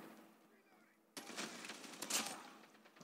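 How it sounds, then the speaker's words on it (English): Automatic weapon fire in Call of Duty Mobile on the CrossFire map breaks out suddenly after a quiet stretch, a dense rattling burst that carries on to the end, with a sharper peak near the close. "This is auto fire."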